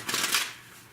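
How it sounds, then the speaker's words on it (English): A quick riffle of a card deck during a mentalism performance, one brief close burst that fades out. "We'll give it another shuffle."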